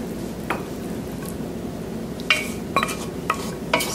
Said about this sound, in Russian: Все перемешиваем, чтобы не было комочков, очень аккуратненько, чтобы была абсолютно однородная масса